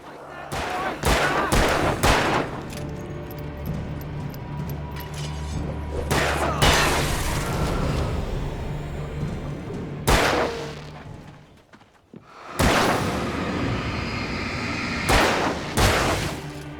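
Companion firing a gun in Alan Wake: sharp gunshots in quick clusters, loud and near, followed by a quieter stretch and more shots near the end.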